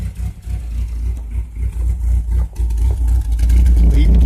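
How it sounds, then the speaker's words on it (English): Chevrolet Cavalier engine idling roughly despite new plug wires and ignition parts, a close, uneven, loping rumble that surges and dips irregularly, with a voice talking over it. "You can just hear it idling like crap."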